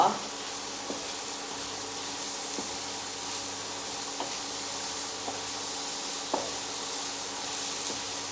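Dal tadka tempering sizzles steadily in a hot pan, a continuous close hiss with a few soft clicks and taps scattered through it.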